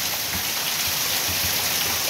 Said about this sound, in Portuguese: Meu sertão nordestino amanheceu chovendo